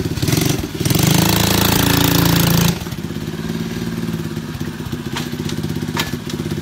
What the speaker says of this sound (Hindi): ये मोटरसाइकिल रिवर्स में भी चलती है, जो कि आमतौर पर मोटरसाइकिलें नहीं चलती।